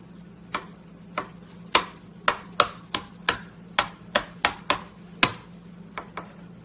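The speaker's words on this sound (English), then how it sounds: "as I chop up the rest of the avocado" A knife chops an avocado on a cutting board for salsa, giving a dozen or so crisp, close taps at an uneven but quick pace over a low steady hum, with no talking.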